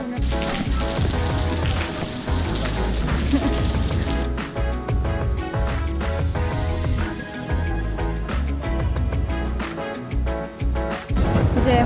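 Rain falls steadily in Guam, a dense, continuous patter and splashing on hard surfaces that stays loud and close throughout, with no voices.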